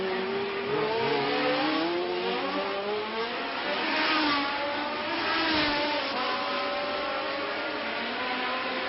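Formula 1 cars racing at the 1974 Monaco Grand Prix, high whining engines rising and falling in pitch as several cars pass, a continuous overlapping drone at moderate distance.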